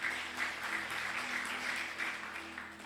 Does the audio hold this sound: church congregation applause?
yes